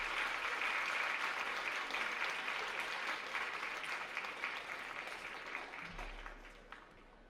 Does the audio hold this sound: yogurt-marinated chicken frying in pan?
no